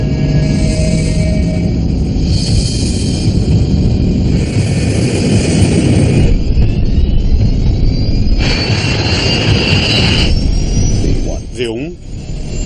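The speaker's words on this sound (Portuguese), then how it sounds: "O DC-8 acelera para a velocidade de decolagem." Douglas DC-8 jet airliner accelerating down the runway for takeoff at Gander airport, a loud sustained roar of jet engines with rising whine under a voice speaking throughout.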